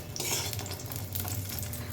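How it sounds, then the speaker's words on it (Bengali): Lentil dumplings (biulir daler bori) fry in a pan until reddish, with a continuous sizzle and occasional soft scraping and stirring noises, close and steady without speech. "যে বড়িগুলো রেখেছিলাম সেই বড়িগুলো এখন আমি একটু লাল লাল করে ভেজে নেব।"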